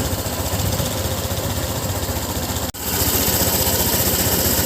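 A Honda Click 125i scooter engine runs steadily at a loud, close idle with a constant buzzing throb, briefly cutting out once before resuming, with no talking over it.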